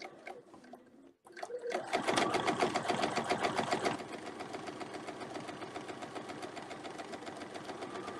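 A sewing machine stitches a diamond shape in quilting fabric, starting with a few soft clicks and then running in a loud, steady rapid whir that eases slightly in level toward the end.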